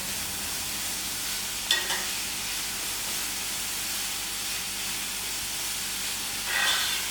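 Crushed chillies for pickle frying over high heat while stirred fast, giving a steady broad sizzling hiss with a couple of brief scraping stirs, close and alone with no talk.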